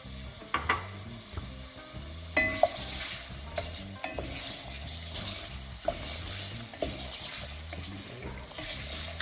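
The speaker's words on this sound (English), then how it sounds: "I'm going to start by adding the andouille sausage." Andouille sausage sizzling in a gumbo roux, a steady soft frying hiss with occasional clinks and scrapes of stirring throughout.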